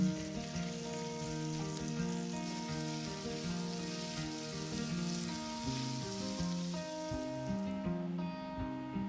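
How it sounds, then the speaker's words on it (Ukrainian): Diced carrots and onion fry in a pan for cabbage soup, giving a steady, soft, continuous sizzle with no talk. "всипаю морку та цибулю. І далі трішки підсмажую."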